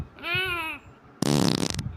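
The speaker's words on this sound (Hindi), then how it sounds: "पादी कैसे तू? पोल्यूशन फैलाती है।" A short squeaky fart rises and falls in tone, then after a brief pause a harsher, sputtering burst follows, both close and fairly quiet.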